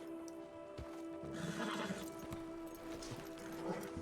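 A horse neighs and whinnies in the video game RedM, fairly quiet and a little distant, while hooves clip-clop underneath.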